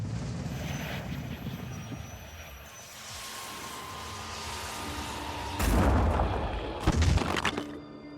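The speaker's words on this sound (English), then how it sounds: "Shelling." Artillery shelling in the tactical game Phoenix Point, a continuous low rumble with two heavier impacts near the end.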